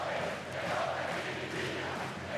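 Arena crowd at a Bilbao Basket semi-final basketball game against JDA Bourgogne Dijon, a steady, dense roar of many voices filling the hall with no breaks.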